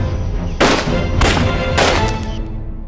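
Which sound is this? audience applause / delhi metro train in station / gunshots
gunshots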